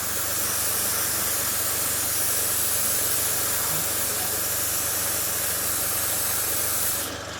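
An SG-100 airbrush with a 0.3mm nozzle sprays paint in a light dusting: a steady, continuous close hiss holds evenly for about seven seconds, then cuts off.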